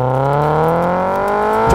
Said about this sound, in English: Straight away you can hear that the exhaust note is definitely a lot louder than it used to be.